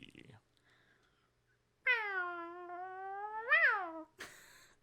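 A human voice imitates a tiny whizzing firework: one long, wavering whine that swells to a sharp peak and then drops away, with brief bursts of talk just before and after.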